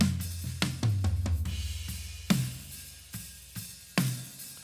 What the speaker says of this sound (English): So this is basically a dry version of the snare with just a little bit of reverb from the bounced